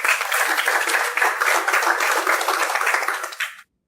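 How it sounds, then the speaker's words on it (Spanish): An audience applauds to welcome the executive director of Aquafondo to the stage, a dense, steady wash of clapping from a room full of people that holds strong for several seconds, then stops abruptly. "Por favor, la recibimos con aplausos."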